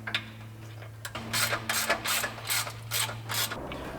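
A socket ratchet undoes the sway bar clamp bolts on a Landcruiser, giving close, repeated bursts of clicking strokes in an even rhythm over a faint background hum, with no speech.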